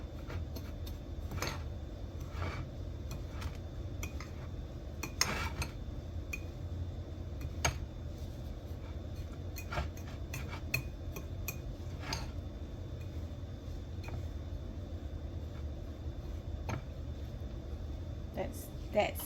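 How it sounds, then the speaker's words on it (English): A spoon stirs a mixture in a bowl for parmesan-crusted chicken, making quiet, irregular clinks and taps against the bowl over a low steady background hum. "So now I'm going to give this a good stir. to mix everything up."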